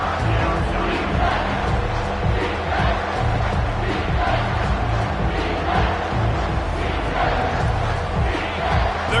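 Football stadium crowd at an Ole Miss versus Texas A&M college game roars steadily behind the defense in the red zone, a dense sustained cheer with rising swells throughout.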